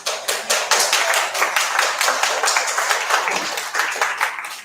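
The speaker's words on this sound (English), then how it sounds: "Let's give ourselves a warm round of applause." Applause from an audience at a design exhibit opening reception and awards ceremony, honoring winners; dense steady clapping with sharp individual claps throughout, fairly close and loud.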